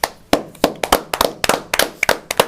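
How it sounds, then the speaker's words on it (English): A small group clapping for RJ, a short, uneven burst of sharp hand claps, close and fairly loud, with no talk. "clap it up for RJ"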